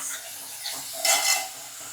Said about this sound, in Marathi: मग त्यानंतर टोमॅटो घेतलेला आहे दोन्ही पण रेसिपी मध्ये सेम मस्तपैकी परतून घ्यायचं आहे